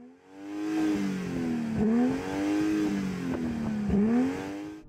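A BMW M240i engine revved hard in Sport mode, rising through the gears in repeated climbing sweeps with brief dips at each shift, loud and near with a raspy tone, no voices over it.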